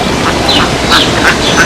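Ducks quack in short, bright bursts near a model airplane flying field, several calls repeating close together over a steady outdoor background.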